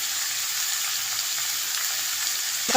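Brinjal pieces and turmeric being stirred in a pan of hot oil, giving a steady close-up sizzle with soft scraping, no talking.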